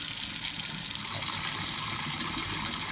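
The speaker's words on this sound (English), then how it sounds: "Run some water through it." Water runs steadily from a tap into a sink under the counter, a continuous close hiss and splash with no talking.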